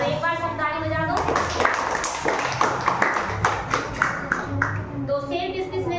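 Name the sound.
children clapping hands together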